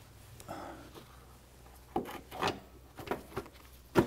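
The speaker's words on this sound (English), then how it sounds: "I'll go ahead and push this back in, and I can reinstall this marker lens" A marker lens being pushed back into place on a Mercedes-Benz, with a few soft rubbing scrapes and sharp plastic clicks at close range, unevenly spaced in quiet.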